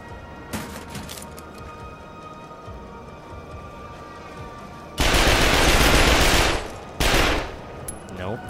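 Shots fired through a window in The Darkness 2 come as a loud sustained burst of automatic fire lasting over a second, then a shorter second burst, after quieter scattered pops and a low ambient hum.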